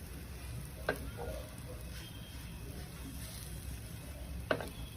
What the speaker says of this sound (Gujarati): ધીમા ગેસ ઉપર આપણે એને થોડી વાર શેકાવા દઈશું.